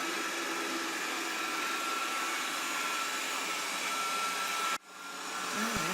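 A Proscenic 820S robot vacuum cleaner runs with a steady, loud whirring drone that briefly dips and then climbs back up, heard close with no voices.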